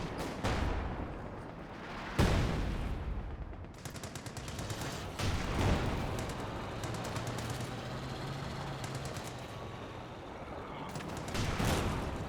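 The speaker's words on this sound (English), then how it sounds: "Vickers firing away with the take aim ability." A Vickers machine gun fires in Company of Heroes 2, sending out sustained rattling bursts amid other battlefield shots and explosions, with a commentator talking over the action.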